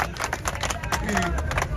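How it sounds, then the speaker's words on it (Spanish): A small group claps in a quick, uneven burst of applause for a class, the hand claps close and brisk, lasting under two seconds. "palmas para nosotros"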